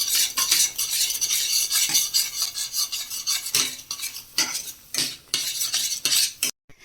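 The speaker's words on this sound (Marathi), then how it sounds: "ह्या सर्व गुटळ्या आपल्याला छान अशा फोडून घ्यायच्या आहेत" A spoon scrapes and stirs besan (gram flour) in a pan of boiling liquid to break up lumps, a close, rhythmic metallic clatter and scrape repeating steadily, ending in a sudden silence.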